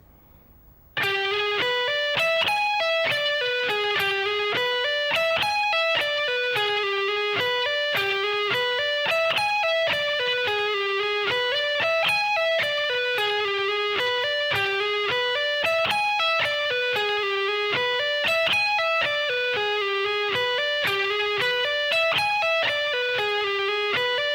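A distorted electric guitar repeats a short funk rock lick four times at a slow, even tempo, clear and loud throughout.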